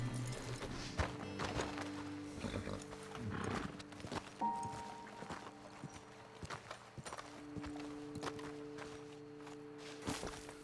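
Horses stand near a roadside ledge after riders dismount in Red Dead Redemption 2, with soft clip-clop hooves and shuffling steps, a brief whinny, and a low tonal game ambience underneath.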